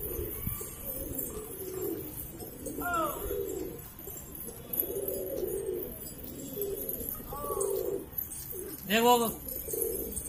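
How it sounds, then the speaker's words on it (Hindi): Hyderabadi pigeons cooing close by in several soft, throaty bursts, with someone speaking briefly and background chatter. "नए कबूतर हैं"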